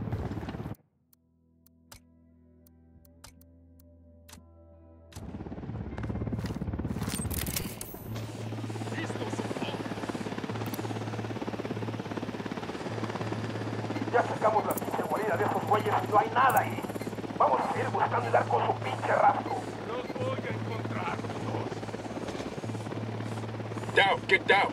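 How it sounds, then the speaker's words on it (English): A helicopter flies over a firefight in the video game Ghost Recon Wildlands, its steady rotor thrum building after a short quiet opening and continuing beneath gunfire, clicks and people talking. "Chopper, hit the dirt."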